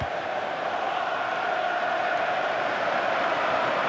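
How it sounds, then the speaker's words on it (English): A stadium crowd in FIFA 13 during Arsenal vs BVB sends up a steady, dense roar of cheering that stays even and unbroken at a moderate distance. "That's got the crowd on their feet"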